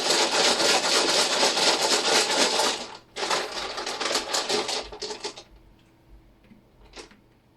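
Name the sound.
dice with words being placed on piles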